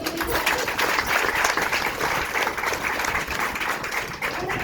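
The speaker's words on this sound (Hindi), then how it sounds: "एक बार जोरदार तालियां लो।" An audience claps loudly and continuously in a dense, even wash of applause that lasts throughout, with faint voices mixed in.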